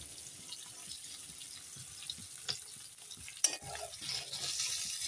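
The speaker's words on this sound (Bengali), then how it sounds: "দেখো পনির প্রায় ভাজা হয়ে এসছে" Soft sizzling of paneer in a frying pan with occasional scrapes and light clinks of stirring, fairly quiet and close.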